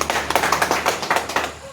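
An audience claps for a guest doctor, a short, close burst of quick, uneven handclaps from a small group, with no voices.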